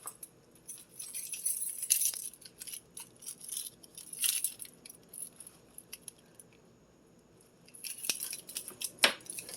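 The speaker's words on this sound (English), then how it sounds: "let me get my keys" Car keys jangle close by in bursts of bright metallic rattling, with quieter gaps between handlings and a sharper clink near the end.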